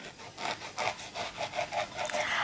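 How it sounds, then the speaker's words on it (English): A knife saws through a crusty baguette, giving a rhythmic series of about eight scratchy back-and-forth strokes, close and crisp, with no talk. "And I will cut the baguette."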